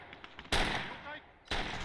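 Light machine gun fire in the WWII strategy game Gates of Hell: Ostfront, two loud sustained bursts about a second apart, each cut off abruptly, close and dominant.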